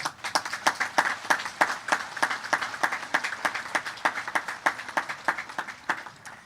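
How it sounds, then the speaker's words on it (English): At a high school graduation ceremony for the class of 2020, the audience gives the school staff a round of applause. Rhythmic, fairly sparse clapping carries on steadily, with each clap distinct and sharp. "Please join me in applauding the dedication, service, and sacrifices of this talented staff."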